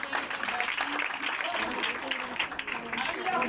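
A church congregation claps for parents on a Father's Day service, the applause dense and sustained throughout, with voices mixed in beneath the clapping.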